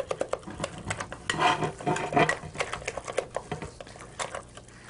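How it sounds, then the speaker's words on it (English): Stuffed clam filling being mixed with breadcrumbs in a bowl, giving a run of close, fast clicking and scraping taps that swell briefly in the middle, with no voices. "Let's mix it all together."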